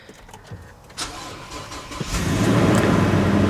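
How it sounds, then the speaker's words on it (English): A Toyota car engine starting with a lag: several short cranking attempts and clicks before the engine catches and settles into a loud, steady idle, heard close with no talk. "The first one is with starting up the vehicle."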